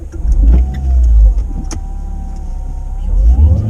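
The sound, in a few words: Renault Clio 200 alternator noise heard from inside the car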